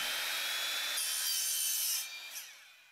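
Halfpipe coping being hand-sawn to length, a quick run of raspy rubbing strokes that stays steady, then trails off as the cut finishes, close and alone.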